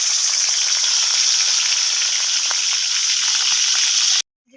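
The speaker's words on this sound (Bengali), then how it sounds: "তেল গরম হয়ে গেছে, আমি আগে থেকে কেটে রাখা মাছটা ভেজে নেব।" Pre-cut hilsa fish pieces fry in plenty of hot oil with a loud, dense, continuous sizzle close by, then stop abruptly near the end, with no talking.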